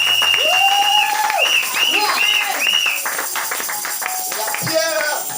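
A church congregation applauds and cheers in praise of the Lord, with dense clapping building over bright whistling, swooping tones and a steady loud wash of crowd noise.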